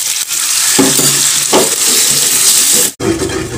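Macaroni frying in a pan with an egg being added, a steady close sizzle with a few stirring scrapes and a brief cut near the end.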